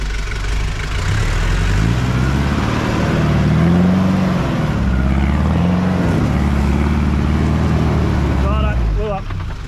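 Mahindra 4x4 engine pulling up a hill at constant throttle, a steady mid-pitched drone with a slight swell in the middle, the engine note carrying continuously.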